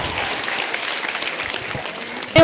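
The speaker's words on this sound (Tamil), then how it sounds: "மேகனாவுக்கு ஒரு கைத்தட்டல் கொடுங்க" Steady audience applause with broadband clapping filling the space at an even level, ending in a brief louder burst of noise at the very end.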